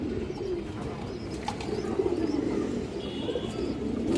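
A loft of high-flyer pigeons coos continuously in a steady, dense low murmur, with occasional chirps and a few wing flutters over a constant background.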